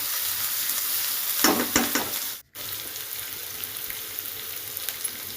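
Onions fry in a pan with a constant sizzle. There are louder stirring bursts early on, and the sound cuts out for a moment before the steady frying resumes.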